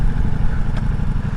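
A 2021 Ducati Multistrada V4 S motorcycle engine rumbles steadily and close while riding, a low, continuous mechanical drone without speech.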